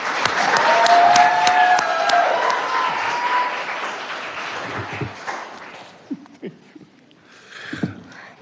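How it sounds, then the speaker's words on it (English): An audience at a Milwaukee County Board of Supervisors meeting applauds Roche, a full burst of clapping with a cheer that fades after a few seconds, leaving a few scattered claps and faint room noise. "Let's give Roche a round of applause."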